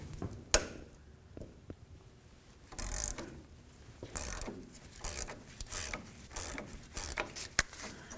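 A wrench loosens the tie rod sleeve nuts on a Ford F250, with quiet repeated ratcheting clicks and metallic knocks in short bursts, close by and fairly faint.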